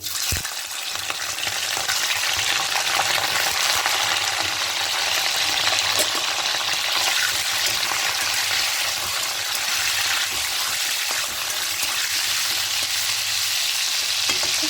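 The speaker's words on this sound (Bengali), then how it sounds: "হালকা করে ভেজে নিচ্ছি চিকেনগুলো" Chicken pieces frying in very hot oil in a kadai make a loud, continuous sizzle, with stirring scrapes mixed in and no talk over it.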